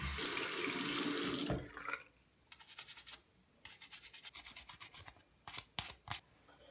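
Tap water running and then rinsing a Gameboy Advance cartridge, a steady stream first, then choppy bursts of splashing and rubbing as the cartridge moves under the flow.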